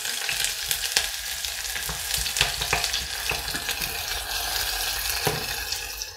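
Onions frying in palm oil to caramelise, a loud, dense crackling sizzle with frequent sharp pops and spatters, close and continuous, no voices.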